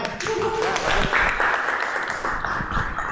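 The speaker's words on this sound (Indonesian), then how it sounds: "Oke, tepuk tangan." A classroom crowd claps steadily at close range, a dense continuous patter lasting a few seconds, with voices mixed in beneath it.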